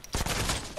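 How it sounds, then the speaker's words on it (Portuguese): A quick burst of rapid gunfire in a battle royale video game, a short rattling volley of several shots within under a second, moderately loud. "Eles estão atirando em outros."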